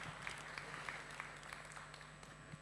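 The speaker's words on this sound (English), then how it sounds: "The applause are for you" Audience applause fills a conference room after a speaker thanks investors in the crowd, a faint, steady wash of many hands clapping with scattered sharper claps, fairly distant.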